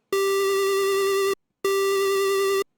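Two sustained synth notes from a SID chip played through SIDStep2 on a Mega65, each a bright buzzy tone holding about a second, with a short gap between them and no audible vibrato wobble.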